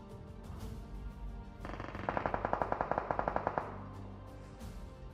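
Gunfire aimed at a BRDM armored vehicle in PUBG Mobile: a quick string of about fourteen evenly spaced shots rings out over a steady low game ambience, then stops.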